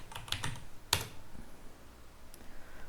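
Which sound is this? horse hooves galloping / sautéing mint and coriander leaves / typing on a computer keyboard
typing on a computer keyboard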